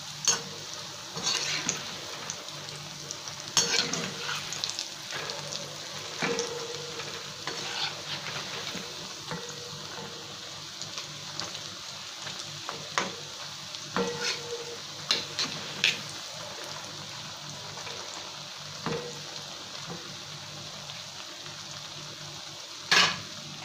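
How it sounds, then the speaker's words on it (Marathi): Methi bhaji fritters deep-frying in hot oil, a steady hiss with bubbling crackle throughout and occasional louder pops and clinks of a utensil against the pan, close and continuous with no talk. "खरपूस तळून घ्यायचा आहे"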